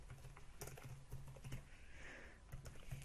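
Computer keyboard typing while entering text for a simple HTML5 website, steady irregular clicks of keys pressed in quick bursts, close and clear, with no talking.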